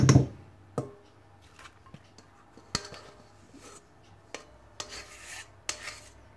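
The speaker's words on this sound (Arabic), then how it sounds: "لحلا اخلطهم مع بعضهم البياض مع الصفار" A spatula folds whipped egg whites into yolks in a bowl, making soft rasping scrapes and occasional clinks against the bowl. The strokes come in an irregular rhythm and are heard close up.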